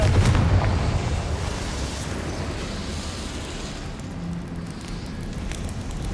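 Confringo fire spell explosion in Hogwarts Legacy on PS5: a low rumbling blast with a crackling fiery roar that slowly fades into a sustained burning hiss.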